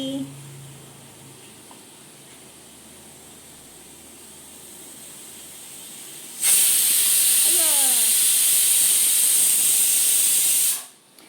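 A home kitchen pressure cooker lets off its whistle: after a quiet stretch of low room hum, a sudden loud, steady high-pitched hissing jet runs for several seconds, then cuts off abruptly.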